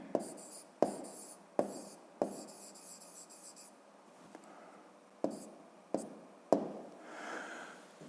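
Handwriting strokes during a fifth-grade maths lesson, a pen or chalk scratching in short bursts with sharp taps between them, fairly close and quiet, with no talk.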